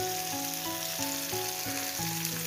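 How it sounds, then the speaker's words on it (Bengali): Ginger and green chilli frying in hot oil with turmeric, cumin and coriander powder for a mustard-oil fish curry, a loud, dense sizzle with a steady tonal hum running beneath it. "আদা আর কাঁচা লঙ্কাটা বেশি ভেজে ফেলবেন না"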